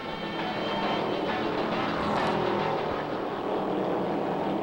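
Several NASCAR stock cars run bunched together at the 1968 American 500, a steady loud engine roar that holds throughout, with one swelling pass near the middle.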